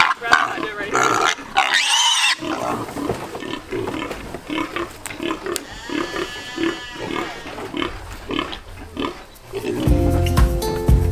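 Red Wattle feeder pigs grunt and oink in repeated bursts, close and loud, with a squeal near the start and some handling noise among them.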